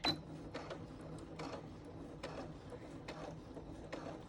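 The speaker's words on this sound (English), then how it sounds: "Put my needle down on the original stitching, and I'm just going to overlap it and back tack on it for around a 1/2 inch." Sewing machine back tacking over the original stitching on a pant hem, a soft rhythmic series of short stitching pulses, quiet and close with no talk.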